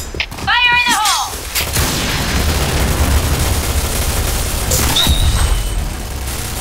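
Grenade explosion in a video game: a shouted voice at the start, then a heavy rumbling blast that rolls on as dense noise, with a sharper thump partway through.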